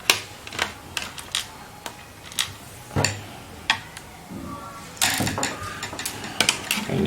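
Screws come out of an HP ProBook 440 G2 laptop during disassembly, heard as close, repeated small ratcheting clicks from a screwdriver in irregular bursts, with a denser cluster of clicks near the end.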